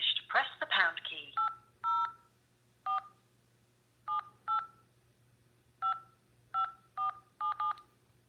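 Telephone keypad DTMF tones entering a PIN on a radio show's phone line, about ten short, evenly clipped beeps in an irregular rhythm, following a brief burst of a voice at the start over a steady low hum.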